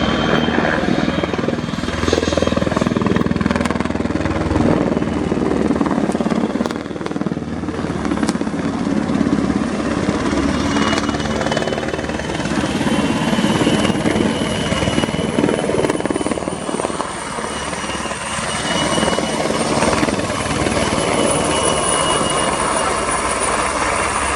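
Czech Air Force PZL-Swidnik W-3A Sokol helicopter in camouflage making a rolling landing on a runway at an air show, its loud, steady rotor thrum and turbine whine filling the whole stretch with no voices over it.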